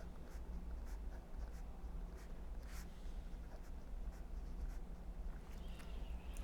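A pen scratches steadily as an equation is written by hand, soft irregular strokes close by with no talk.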